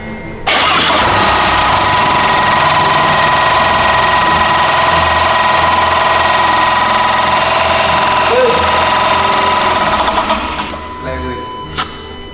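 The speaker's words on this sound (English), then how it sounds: "we can at least idle the car for a longer time and then see if the engine is actually smooth" A water-damaged Porsche Macan idles steadily after starting, a continuous mid-pitched engine hum with a persistent whine running close and loud for about ten seconds before tapering, people talking faintly beneath it.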